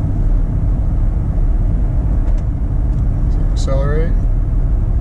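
A 1999 GMC Yukon with a swapped 5.3 engine cruises at steady speed, giving a constant low road and engine rumble throughout, with a brief chirp near the end and faint voices in the cabin.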